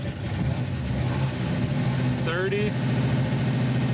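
A Chevrolet Bel Air engine runs at a steady, rumbling idle up close while its oil pressure is checked and the manifolds smoke, with someone talking loudly over it.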